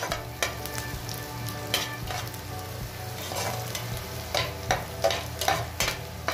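Ginger and garlic sauté in a hot pan for chicken paella, a steady sizzle running throughout with periodic sharp scrapes and clinks of stirring, close and fairly loud.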